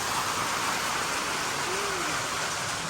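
Heavy rain falls in a steady, even roar of broadband hiss, unbroken from start to finish, with no talking over it.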